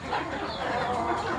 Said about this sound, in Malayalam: എല്ലാം നാടൻ കോഴികളാണ്.